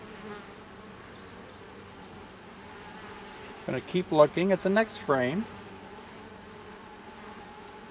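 Honey bees hum steadily around an opened hive during an inspection, a close continuous buzz under someone talking quietly in the middle.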